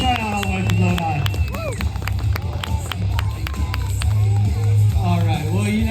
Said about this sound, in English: Big round of applause, Chandler Dunn, and of course, my man, Bryce Tryon all the way from Lodi